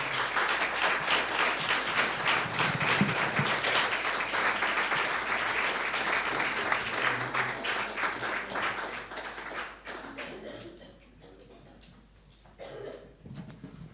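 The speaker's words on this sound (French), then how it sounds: "Je vous invite à les applaudir en signe de reconnaissance." An audience at a church ministry presentation claps steadily and loudly for about ten seconds, then the applause thins out to scattered claps and fades away.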